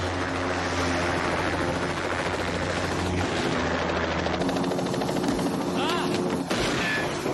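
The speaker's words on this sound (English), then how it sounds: "What do you call that? That's a helicopter." Helicopter flying overhead in an old adventure film, a loud continuous rotor and engine roar with a steady low drone throughout, joined by sharp bursts that resemble gunfire.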